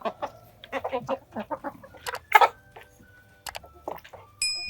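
A fairly large speckled hen clucks close by in a series of short, uneven calls with small gaps, clear and alone, ending in a slightly louder note.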